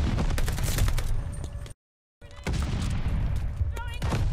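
Shotgun blasts in Call of Duty Vanguard gameplay: dense bursts of gunfire with booming, rattling shots crowding the first half, a brief dead gap, then more close, loud firing, with a player talking excitedly over the action.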